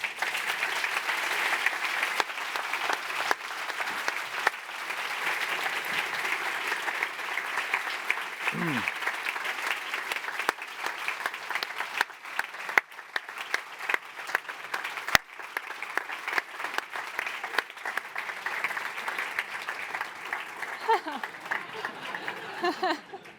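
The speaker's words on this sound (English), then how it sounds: "a great applause to the 2 of you, a great applause to you" Sustained applause from an audience, steady clapping filling the room for the whole stretch with a few sharper claps standing out.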